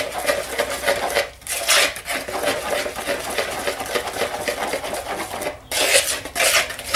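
Coconut cupcake batter being mixed by hand in a bowl: a steady, close scraping and rubbing of a utensil against the bowl runs almost throughout, pausing briefly twice, with no talk.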